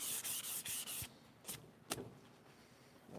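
Sandpaper rubbing across a wooden desk during a build, several quick rhythmic rasping strokes up close at first, then a few isolated scrapes and knocks in a quiet room.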